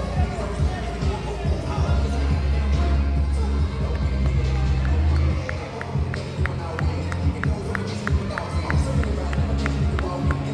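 A wrestling crowd roars and chatters throughout, loud and continuous, then breaks into rhythmic unison clapping in the second half while a commentator talks over it.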